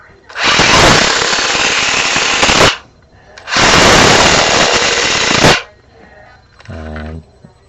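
A Traxxas Tomcat RC car with a full-width bumper whirs in two loud, sustained bursts of buzzing motor and gear noise close by, separated by a short pause, followed by a brief quieter rattle.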